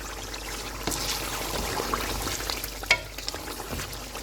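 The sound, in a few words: beef korma frying in pot as kewra water is added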